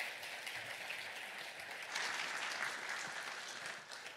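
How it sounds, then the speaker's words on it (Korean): Applause from a church congregation at a Sunday service, welcoming a woman forward for her baptism; a steady, fairly soft wash of many hands clapping, swelling slightly midway. "혜수 자매 나올 때 우리 박수로 한번 환영해 주시겠습니다"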